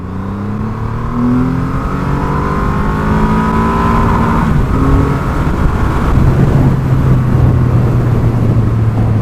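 A 2020 Triumph Rocket 3 R motorcycle accelerates hard in second gear, a loud continuous engine note rising steadily in pitch, with wind roar throughout and no talking.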